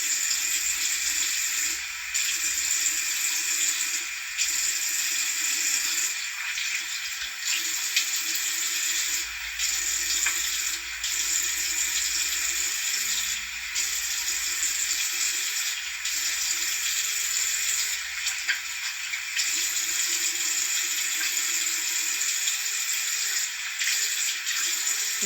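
Water running steadily from a sink tap while a face is rinsed, a continuous close hiss with faint splashing that carries on throughout.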